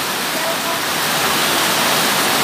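Rain pours outdoors onto toy vehicles such as a tanker truck, truck, excavator, bus and crane, making a dense, steady, loud hiss that never lets up.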